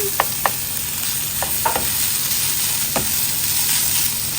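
Meat being sautéed in a pan sizzles steadily with a soft hiss, punctuated by a few sharp utensil taps and clinks, and no one speaks.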